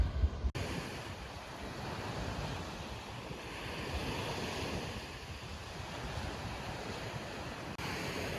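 Sea waves wash steadily onto the Black Sea coast in Bulgaria, a continuous broadband surf roar with wind buffeting the microphone, close and loud throughout with no talking.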